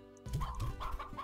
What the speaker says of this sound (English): Trying to feed the chickens